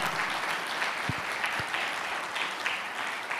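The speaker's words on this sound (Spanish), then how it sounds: "dale un aplauso al Señor" A church congregation applauds together in a continuous, even roar of many clapping hands, with a few low thumps and voices faintly mixed in.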